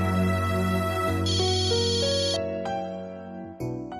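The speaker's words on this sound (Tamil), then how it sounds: "ஒரு நிமிஷம் மேடம், என் சன்னு தான் போன் பண்றான்." A mobile phone rings with an incoming call, playing a melodic electronic ringtone of stepped tones that shift in pitch, clear and fairly close with no talk.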